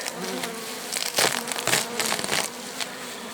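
Honeybees buzz steadily at close range at an open hive, with crinkling and rustling noises from handling full frames over the hum.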